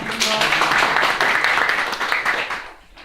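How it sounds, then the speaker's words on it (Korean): A crowd at a startup pitching and networking event applauds to welcome a presenter, a dense steady wash of clapping that fades out near the end. "박수를 맞이해주십시오."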